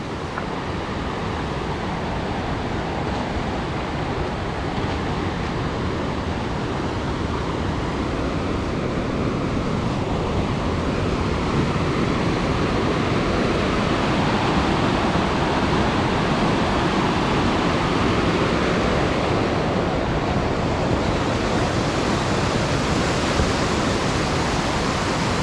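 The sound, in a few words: Hammerbach stream rushing through Höllentalklamm gorge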